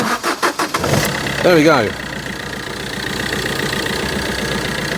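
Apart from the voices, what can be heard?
Fiat Doblo Cargo van engine starting and idling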